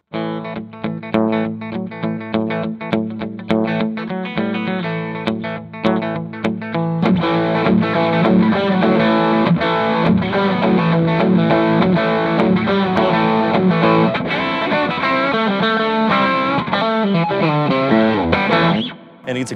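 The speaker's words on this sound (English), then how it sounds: "you're playing on a clean and you want that nice kind of rockabilly sound" Electric guitar with overdriven amp tone, starting with picked notes and then chugging into fuller distorted chords, loud and continuous with no talking.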